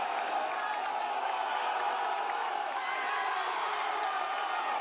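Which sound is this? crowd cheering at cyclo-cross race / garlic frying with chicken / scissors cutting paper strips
crowd cheering at cyclo-cross race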